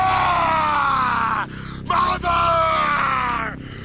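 A man screams at length in a horror film scene, naked at his mother's grave, the loud strained yell broken by a short pause before it resumes, with no other talking.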